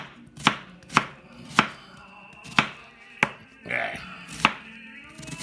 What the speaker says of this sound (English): we're going to chop this onion up